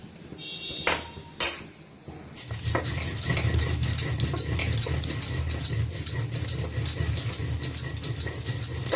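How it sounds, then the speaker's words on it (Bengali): Lightly roasted cumin seeds are ground with water, starting after a couple of sharp clinks into a steady, busy grinding and scraping noise that runs nonstop, moderately close. "এইগুলো জল দিয়ে বেটে নেব।"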